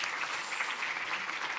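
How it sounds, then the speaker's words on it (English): Audience applause at a conference, a steady wash of clapping from a crowd with no talking, lasting under two seconds. "That's applause."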